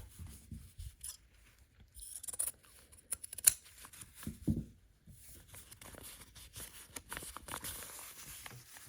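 Scissors or a rotary cutter trims fabric for a pickle dish quilt block, giving quiet, close snips and crisp cutting strokes in short bursts with rustling of cloth between them.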